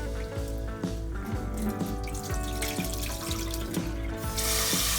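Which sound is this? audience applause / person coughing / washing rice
washing rice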